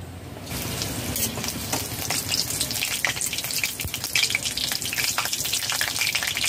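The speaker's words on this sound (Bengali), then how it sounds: "সর্ষের তেল গরম হয়ে গেছে, গোটা জিরা দিয়ে দিলাম।" Whole cumin seeds and dried and green chillies hit hot mustard oil in a pan, starting a loud, steady sizzle and crackle that holds at close range for the whole stretch, with no voices over it.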